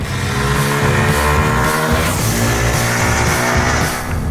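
A 2023 Bajaj Pulsar N250 motorcycle engine runs loud and close while riding in fourth gear, a steady throbbing drone with slight shifts in pitch, alone without talk.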